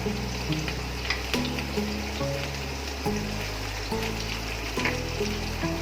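Paneer lightly sautéing in a pan for a matar paneer dish, giving a steady close sizzle with a low hum of background noise beneath it and no talking.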